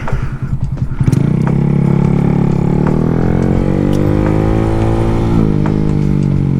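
Honda Grom stunt motorcycle riding on fresh pavement, its small engine revving up loud and close with a steady rising drone, after a few seconds of bumpy clatter at the start.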